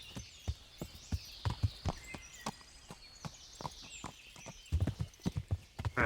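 Pebbles the horse walking in the video game Kingdom Come: Deliverance, a steady clip-clop of hooves close by with a couple of louder, heavier steps near the end, no talking.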